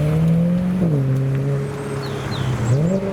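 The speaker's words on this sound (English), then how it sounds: "Lovely V10 noises from the RS6 Avant" An Audi RS6 Avant with a V10 engine drones at a car show on a track day, its deep note dipping and rising as the revs change, loud and close, with faint whistling tones above.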